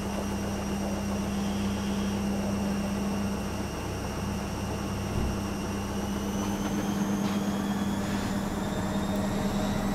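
A washing machine spins at full speed, giving a faint, continuous whining drone with a steady low hum and no voices.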